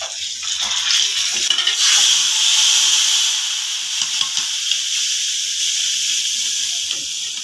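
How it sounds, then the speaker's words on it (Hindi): Fenugreek and mustard seeds fry in hot oil with asafoetida, giving a loud, steady crackling sizzle that holds without a break throughout, with no talking. "अब ये डालूंगी मेथी और सरसों, और ये देखो अब इसमें भूनूंगी"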